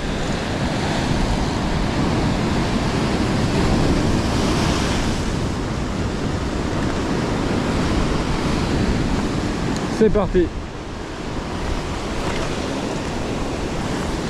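Wind gusting along the coast while surf fishing for bass among the waves: a loud, steady roar of wind buffeting the microphone mixed with breaking surf, with a brief clatter near the end and someone speaking briefly.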